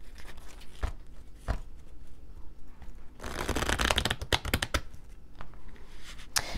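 Playing cards are shuffled up close, with crisp riffling bursts and a longer dense flurry of flicking and snapping cards in the middle, and no talking.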